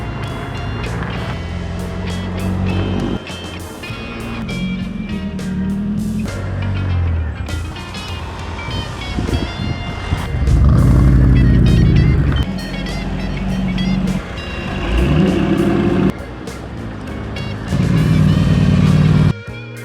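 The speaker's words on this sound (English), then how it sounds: "Then, the rumble of cars could be heard in the distance." Deep, rumbling engines of custom cars arriving at an outdoor car gathering, swelling and fading as vehicles roll in one after another, with loud revving bursts and a steady low drone throughout.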